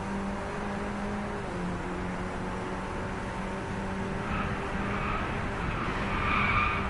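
A John Cooper Works Mini Cooper, an asphalt car, racing in the video game Driveclub: continuous engine drone with sustained tire skidding and squeal, loud and steady, building slightly near the end, no voices.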